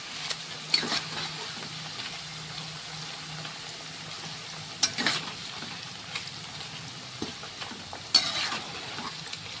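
Bitter gourd (kakarakaya) pieces being deep fried for pickle give a continuous soft bubbling sizzle in oil, with a few louder crackles and stirring scrapes scattered through.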